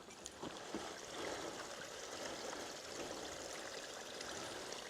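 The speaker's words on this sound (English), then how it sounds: "Now I can hear water" A garden stream rushes and trickles steadily nearby, a continuous gentle flow with no voices.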